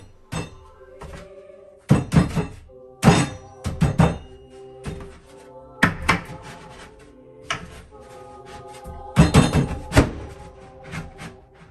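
Wooden cubby pieces are pounded into a snug fit with repeated sharp knocks and thunks arriving in uneven clusters, loud and close, with short pauses between groups of blows.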